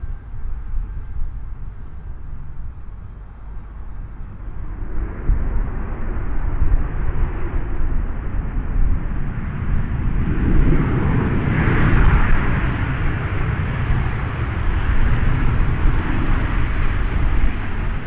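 A Southwest airliner takes off at Nashville International Airport, its jet engines building from a distant rumble into a loud, sustained roar that swells and holds.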